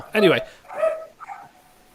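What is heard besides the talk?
dog barking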